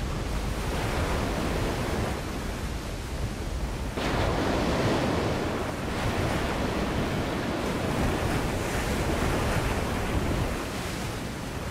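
Water waves wash and surge continuously in the video game Call of Cthulhu, a loud, broad rushing roar with swells that rise and fall, heard alone.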